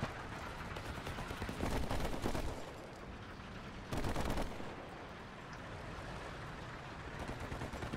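Gunfire in the War Thunder tank game, faint bursts of rapid shots that crackle in two louder stretches over a low rumbling background.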